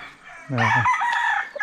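A farm rooster crows once, loud and close, its call rising sharply then holding a long, slightly hoarse note before trailing off among the chickens.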